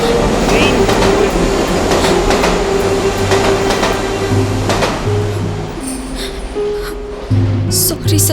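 A passenger train pulls out of a station in a Tamil film scene, its steady rumble and clickety-clack loud and continuous throughout, with a brief squeal near the end and voices faintly underneath.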